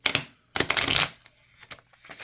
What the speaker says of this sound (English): Let me actually shuffle my deck in normally.